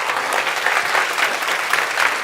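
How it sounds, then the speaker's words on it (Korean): Dense, steady applause fills a church during a Sunday youth worship service, a broad wash of many hands clapping throughout without talk. "우리 하나님께 영광의 박수 올려드리겠습니다"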